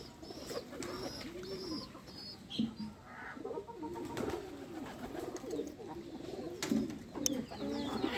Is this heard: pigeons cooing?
yes